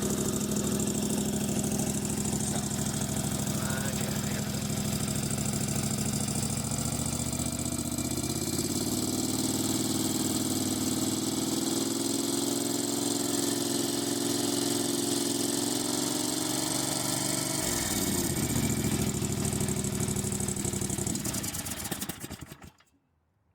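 A dune buggy engine runs steadily at idle, recorded close beside the exhaust, with a continuous loud rumble that shifts pitch slightly partway through before cutting out abruptly near the end.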